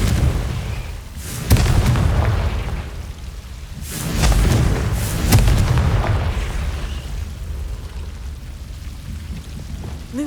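Repeated Confringo blasting spell explosions from Hogwarts Legacy, several loud booms with rumbling, rain-like debris tails, coming in bursts around two and five seconds before settling into a lower ambient roar.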